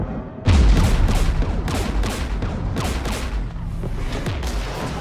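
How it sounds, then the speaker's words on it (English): Heavy gunfire erupts in the Mass Effect 3 video game during a battle against Geth forces, opening with a loud boom and continuing as dense, overlapping rapid shots. "We're taking fire."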